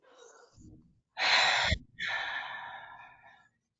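A guided deep breath in a forgiveness session: a soft inhale, then a strong, close exhale with a brief catch midway, trailing into a long, fading breath out, with no talking.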